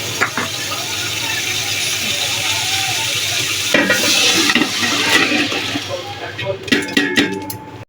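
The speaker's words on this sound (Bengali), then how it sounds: "চাউলের সঙ্গে ডাউলগুলো ভেজে নিব খুব ভালো করে ভেজে নিতে হবে" Rice with masoor and moong lentils fries in oil with spices in a pot for a spiced chicken khichuri. A steady, dense sizzle is followed by scraping stirring strokes toward the end, loud and close, with no talking.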